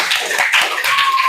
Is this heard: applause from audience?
yes